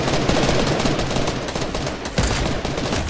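Rapid, continuous automatic gunfire in a video game, loud and dense, with bursts running together throughout and a sharp burst near the end.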